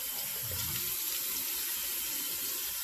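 Water runs steadily from a tap for a quick rinse while shaving, a continuous close hiss of flowing water with no talk.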